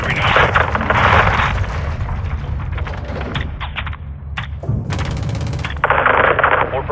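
A video-game airstrike drops on a building in Call of Duty Modern Warfare II: heavy booms and thumping blasts mixed with rattling gunfire bursts, loud and close, across the whole stretch with no talk over it.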